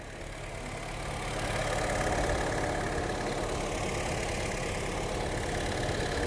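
A petrol engine of a 2017 Honda City V CVT automatic idles steadily and smoothly, a continuous close hum with no knocking and no talk over it.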